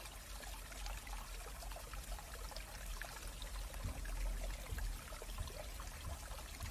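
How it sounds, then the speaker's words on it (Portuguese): A small creek flows in a steady, unbroken rush of burbling water, moderately close and uniform throughout, with no voices or other sounds. "com o som deste riacho"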